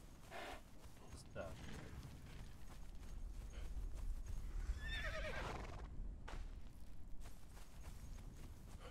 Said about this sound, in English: we have a shit ton of horses that nobody's fucking using